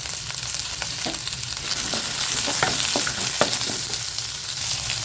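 Onions and tamarind sautéing together in a pan for a quick onion chutney, a steady close sizzle with scattered sharp crackles and pops and a few scraping stirs, no voices.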